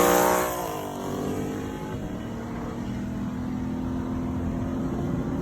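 A car with a rough, loud engine pulls away and accelerates steadily, its note rising briefly before holding a heavy, constant drone with no talking.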